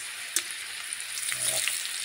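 Potatoes frying in margarine give a steady close sizzle throughout, broken by a sharp scrape or tap early on and a few soft stirring clatters.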